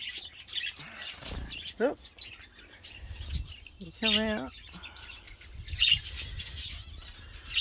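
Small finches chirp and tweet in short bursts nearby in a bird aviary, with a quick trilling call standing out, while a person speaks briefly over them.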